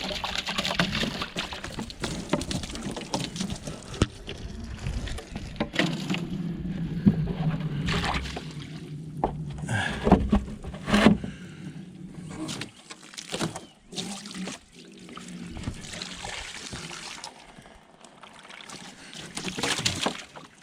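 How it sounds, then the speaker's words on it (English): A hose rinses and fills a horse water trough at a horse farm, giving a close, uneven splashing and pouring water sound with gurgling bursts that shift in strength and fade toward the end. "We'll just give these a quick rinse."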